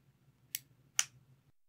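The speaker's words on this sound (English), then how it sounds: "I'm just going to take some scissors and try to chop out that part." Scissors cutting hot glue on a DIY action figure effect, two short sharp snips about half a second apart, close and quiet, over a faint low hum.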